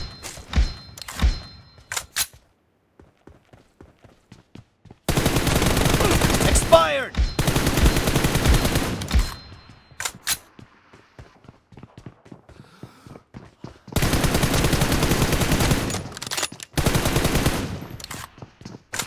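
Gunfire in a BGMI mobile game team deathmatch, with long sustained bursts of automatic fire alternating with scattered single shots and quieter gaps.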